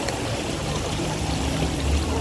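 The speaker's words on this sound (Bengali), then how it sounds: "এই দেখো পানির ঝর্ণা" Continuous rushing of water from a waterfall, a dense steady wash of noise heard up close with no clear speech.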